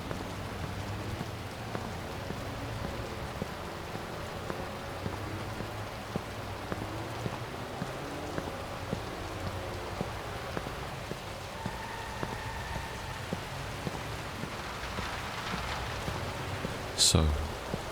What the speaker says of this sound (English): The rain does look fantastic though.